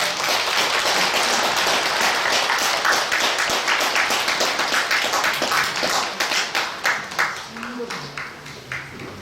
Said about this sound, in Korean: 여러분 박수 한번 해주시기 바랍니다